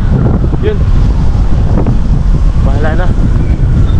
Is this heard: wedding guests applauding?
no